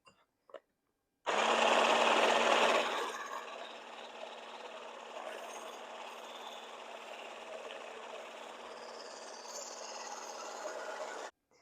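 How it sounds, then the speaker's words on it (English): Egg yolks being beaten for homemade eggnog with an electric mixer: a loud whirring burst at first, then a steady, slightly softer motor hum that runs evenly for several seconds before cutting off. "now I'm going to beat my egg yolks until they are light and they kind of get a little bit thick"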